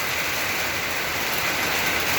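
Steady, heavy rain pouring down continuously, a dense hiss filling everything with no pauses or voices.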